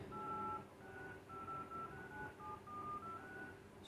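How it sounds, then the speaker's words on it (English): Dial pad key tones on a vivo V21e phone, a string of clear electronic beeps of varying length pressed one after another over a steady background hum, with no talking. "now you can see dial pad tone will work"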